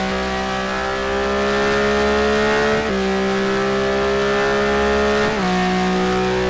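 Race car engine in the GTR2 racing game at Silverstone GP, revving loud and steady with rising pitch, dropping sharply at two gear shifts, no talk.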